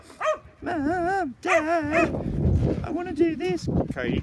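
A wolfhound named Cody gives whiny, yodeling barks and yips in short bursts close by, with a person speaking between and over the vocalizations.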